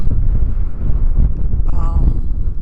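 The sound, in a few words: wind blowing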